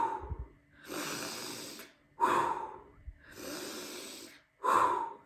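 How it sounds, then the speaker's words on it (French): Rapid, active breathwork breathing is demonstrated up close: forceful, audible inhales and exhales alternate in long rushing bursts, with sharper snort-like breaths every couple of seconds and no speech. "une respiration très active qui ressemble un peu à ça"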